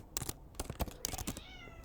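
A pet cat screaming and howling indoors, a series of short loud yowls and cries in quick succession, close by, with a longer wavering howl near the end.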